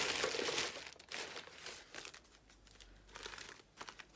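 A brown paper bag crinkles and rustles close up in irregular handled bursts, loud at first, then softer scrunches with brief pauses.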